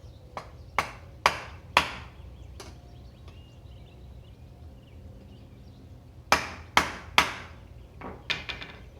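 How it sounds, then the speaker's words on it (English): Sharp metallic hammer blows on a Yamaha YZ250FX motorcycle radiator, close and loud, striking in two rhythmic bursts separated by a quiet pause, with lighter taps at the end. "I think I got a big enough hammer."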